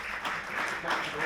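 Audience applause at a men's health week armwrestling event, a steady broadband patter of many hands lasting about a second, fairly close and even, with some voices mixed in.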